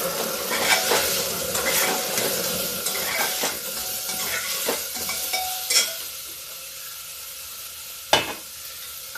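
Jackfruit curry sizzles in a pan just after the spices go in, with a steady fry hiss broken by scrapes and clinks of a spoon stirring against the metal and one sharper knock near the end; no one speaks.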